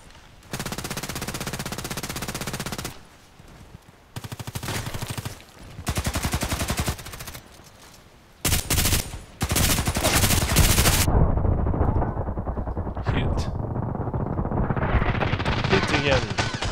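Rapid automatic gunfire from the online shooter Contract Wars comes in long dense bursts separated by short gaps, loud and close, followed by a sustained roaring rumble, with a voice speaking in places.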